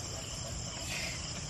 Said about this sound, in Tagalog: Dami talagang kulisap.